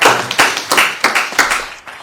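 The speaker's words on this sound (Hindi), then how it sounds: "भाई जगजीवन जी हमारे बीच में है, जोरदार तालियां" An audience at a poetry recital gives a poet a short round of clapping, heard as a series of close, rhythmic bursts of hand claps.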